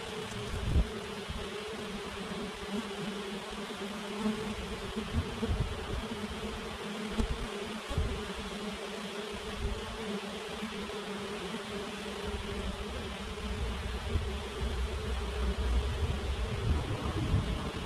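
A large mass of honeybees newly released into a hive, buzzing in a continuous dense drone that stays steady and close for the whole stretch, with no talking.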